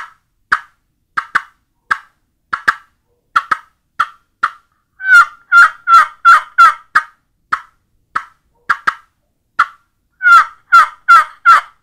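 Wooden box turkey call with butternut sides and cherry, struck with a paddle while the base is held, giving loud, close yelps in short rhythmic runs, with quicker gobble-like bursts between pauses.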